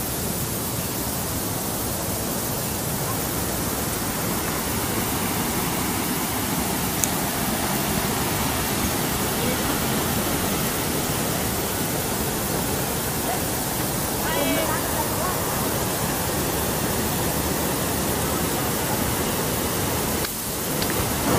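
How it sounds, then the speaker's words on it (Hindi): Loud, steady rushing of water pours continuously over Dhanraul Dam in Sonbhadra, Uttar Pradesh, a dense roar close by with no letup. "अच्छे से पानी बह रहा है"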